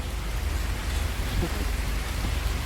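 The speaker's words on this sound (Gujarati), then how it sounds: "વરસાદ એકદમ ફૂલ ચાલુ છે અત્યારે" Heavy rain falling outdoors: a dense, steady rumbling wash of rain noise that continues unbroken, with no voices.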